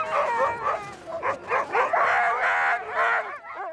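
Sled dogs at a North Pole ice camp yip, bark and whine together in an excited, overlapping chorus, close and loud, with a brief pause at the end.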